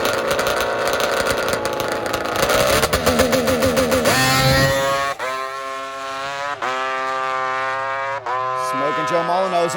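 A nitrous two-stroke drag racing bike with carbon fiber and custom CNC parts screams loudly down the strip, its high engine tone climbing through shifts with brief dips between gears, heard close and sustained.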